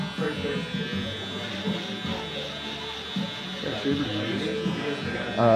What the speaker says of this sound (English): I take the full shavers and just kind of get rid of all that.